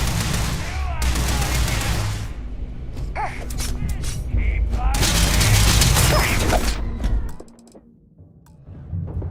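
Gunfire in the game Starfield, heard as loud bursts of rapid shots and booming impacts in two long volleys with a lull between them, then a sudden drop to near silence and a last faint burst.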